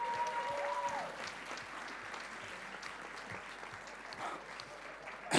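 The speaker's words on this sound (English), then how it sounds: "give him a big round of applause" Audience at a JavaScript tech talk clapping for a volunteer, a dense, even round of applause from a crowd in a hall, fairly distant, lasting the whole stretch.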